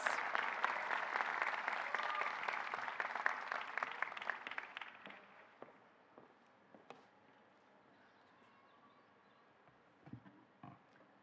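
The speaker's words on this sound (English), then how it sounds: "Let's give a round of applause to these wonderful scholars." Audience applause at a 2023 graduate commencement ceremony, a dense steady burst of clapping that fades out after about five seconds, leaving a few scattered claps and faint room noise.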